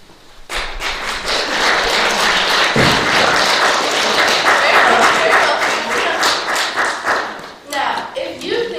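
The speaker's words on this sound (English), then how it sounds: "please applaud now" Audience applause fills most of the stretch, a dense steady burst of many hands from a theater crowd, rising quickly and tapering near the end with a few scattered claps.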